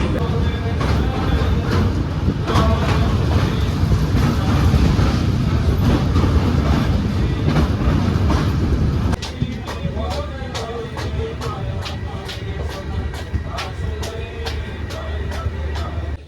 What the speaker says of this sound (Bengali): এই মুহূর্তে কিন্তু আমাদের ট্রেন এসে পৌঁছেছে মাথাভাঙ্গা রেলওয়ে স্টেশনে